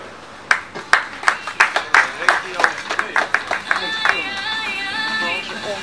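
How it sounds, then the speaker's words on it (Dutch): A modest crowd claps at an outdoor cyclocross podium ceremony, a run of distinct, fairly close hand claps that thins out as a voice begins speaking over the end. "Uit Breda geef een geweldig applaus."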